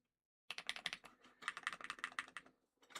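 Close, quiet typing on an Epomaker HE75 v2 TMR keyboard: two quick bursts of crisp, rapid keystrokes separated by a short pause, with a few more clicks starting at the end, no voice.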